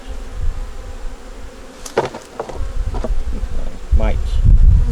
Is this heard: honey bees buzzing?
yes